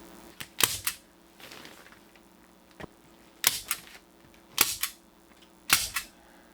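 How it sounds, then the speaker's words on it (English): A staple gun drives staples through R19 insulation batts into a workshop ceiling, giving sharp, isolated snaps in an uneven series, some close together in pairs, with quiet gaps between. "So I can just begin to staple this into place."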